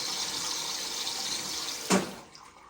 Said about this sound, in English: So every time I stop the cold water, it takes a couple of seconds extra before it stops